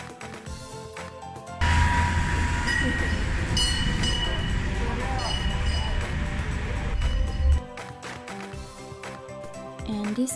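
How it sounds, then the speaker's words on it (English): A train moves through Vilnius railway station in Lithuania, its loud rumbling rolling noise rising abruptly and holding for several seconds before cutting off. Quieter station ambience with tonal hums surrounds it. "So this is the train station of Vilnius guys."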